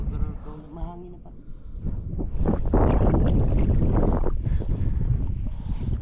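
Wind buffets the microphone during coastal shrimp and crab catching, a loud, steady roar that builds and holds after a voice briefly speaks at the start.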